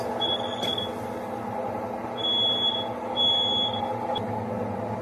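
A smoke alarm beeps in high, piercing tones, several sustained chirps over a steady low rumbling background.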